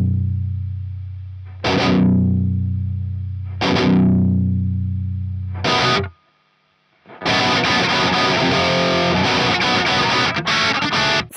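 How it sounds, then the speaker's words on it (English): Heavily distorted electric guitar playing a Messer-style rock part from a song: two ringing chords that decay, a short clipped stab, a brief gap, then dense sustained chugging riffing, loud and close. "the majority of this track is good old fashioned heavy Messer distortion"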